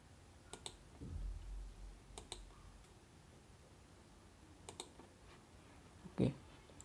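Mouse clicks while placing pins in a circuit diagram program, faint and close, arriving as sharp double clicks spaced a second or two apart in a quiet room with a soft thump near the end.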